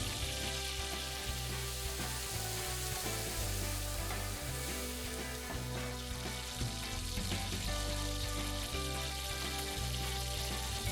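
Mushrooms and onion frying in a pan for a potato sausage dish, a constant sizzle and crackle close up, layered over steady background music.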